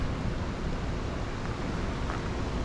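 Hidden Falls in Glacier National Park spills down into a river near Grinnell Lake, producing a dense, continuous rushing roar that stays steady and close throughout.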